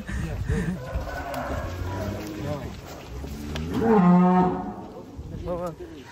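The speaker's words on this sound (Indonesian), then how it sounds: "Sapi jenis Brahman nih. Brahman cross ya." A Brahman cross cow lets out a loud, drawn-out moo near the end, preceded by people talking and lighter lowing sounds in the background.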